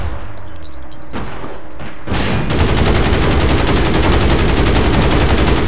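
Rapid bursts of automatic gunfire in the video game APB Reloaded: a few isolated shots, then a dense, continuous loud fusillade that runs to the end.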